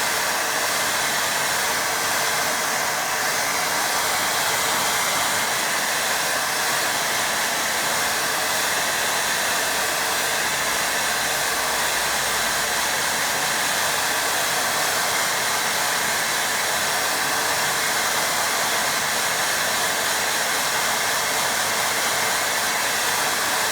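A hair dryer blows steady, loud broadband air over a wet watercolour layer to dry it, running continuously without pause and with no talking.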